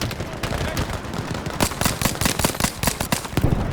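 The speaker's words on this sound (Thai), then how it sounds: "เป็นปืนพกระยะนี้" Rapid pistol shots from a Battlefield V firefight, a dense run of sharp cracks that quickens and grows louder partway through over a constant rumbling game backdrop.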